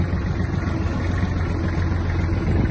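A Kubota GL-21 Japanese mini tractor engine idles close by, a steady low diesel rumble with an even vibrating texture and no speech.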